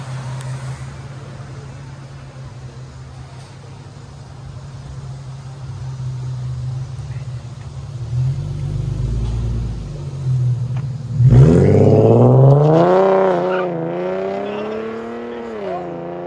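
An Infiniti G37 3.7L V6 idles with a low rumble, then revs up sharply with rising and falling exhaust tones from a modified exhaust, loud and close, some voices faintly underneath.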